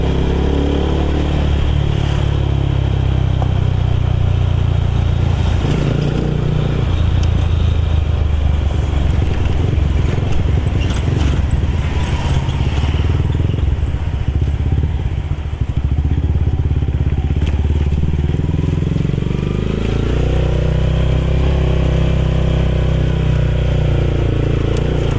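A motorcycle engine runs continuously while riding, a loud steady drone with throttle rises and falls and some crackle, heard up close with wind and road noise.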